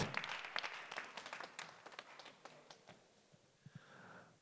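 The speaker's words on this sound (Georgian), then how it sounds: "აპლოდისმენტები მებრძოლებს." Applause for MMA fighters at a GAMA press conference, a brief burst of scattered clapping from a small crowd that thins out into a few isolated claps, fairly faint and distant.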